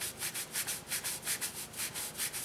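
Lipstick being rubbed off the back of a hand, a steady run of soft, rhythmic skin-on-skin swishes, about ten strokes, close and alone.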